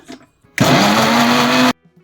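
A mixer grinder blends coconut chutney with a little added water in one loud, close burst of whirring motor noise lasting just over a second, with quiet moments before and after.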